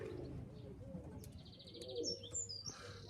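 Young pigeons in an aviary, soft low cooing alongside chirps and higher twittering from nearby birds, quiet and intermittent over faint background noise.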